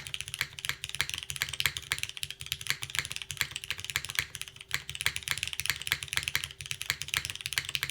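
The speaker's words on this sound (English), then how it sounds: "Ooh, the aluminum plate with the Cherry switches." Fast, steady typing on a 65% mechanical keyboard with Cherry switches on an aluminum plate, a dense stream of crisp, even keystrokes close by with no voices.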